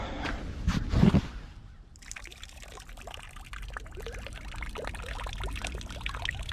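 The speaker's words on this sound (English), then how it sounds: "I'm gonna actually let some of the juice of this corn out" Juice poured from an ear of corn beside the Chicago River makes a soft, continuous trickle, preceded by a brief louder handling sound, with faint outdoor background.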